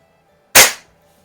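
A single sharp crack from a Sheridan Blue Streak .20 caliber air rifle being fired, close and loud, with a quick decay into near silence.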